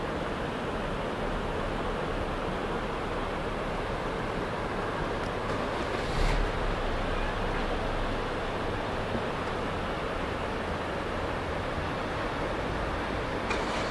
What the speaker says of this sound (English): 4 mile beach, lovely sand. Tide is now coming in on it.